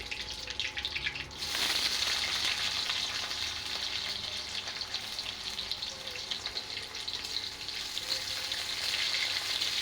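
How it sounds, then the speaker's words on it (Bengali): Chopped onions hit hot oil with whole cumin seeds and fry with a loud, steady, close sizzle that swells right after they go in and keeps crackling without a break. "তারপর দিয়ে দেব কেটে রাখা পেঁয়াজ কুচি"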